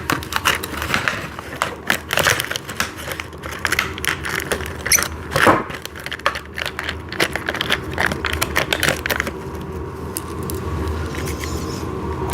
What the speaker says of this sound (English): So that is going to be bolting that down into play.